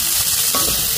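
Broiler chicken for a Mangalore-style sukka fries in a pan with a brief, dense, loud sizzle close at hand and no voices.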